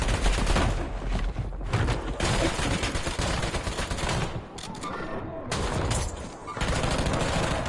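Rapid gunfire in the video game Warzone rattles in loud sustained bursts, broken by a couple of short pauses, with faint voice chatter mixed underneath.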